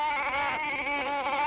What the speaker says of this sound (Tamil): மேய்ஞ்சுக்கிட்டு இருக்கிற ஆட்டு கூட்டத்துல